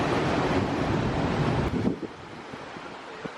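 Ocean surf at Malibu Beach rolls in as a steady, loud wash of breaking waves with wind buffeting, then eases to a softer, quieter hiss near the end.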